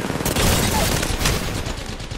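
Gunfire striking the player in Apex Legends, a dense, continuous burst of rapid impacts and shots at close range, loud throughout with some game noise underneath.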